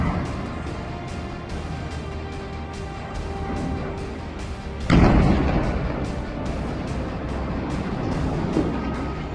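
Heavy gunfire from a battle between fighters and Israeli forces in the West Bank: sustained, rumbling fire with one loud, close boom midway, followed by continued crackling shots.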